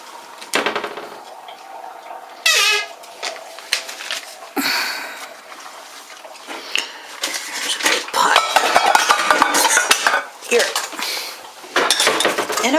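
Metal pot and utensils clink and clatter in a home kitchen while a pie filling is prepared, with scattered sharp knocks and scrapes of varying loudness and some quiet breathing between.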